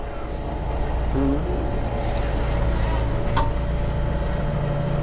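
Chinese tractor engine idling and reversing, a steady low diesel drone with faint mechanical clanks and a brief squeak, heard up close with a short burst of speech.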